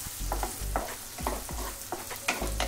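Onion, garlic and dried red chilli frying in hot oil for a ridge gourd mash, a steady close sizzle broken by repeated scraping stirs of a spatula in the pan.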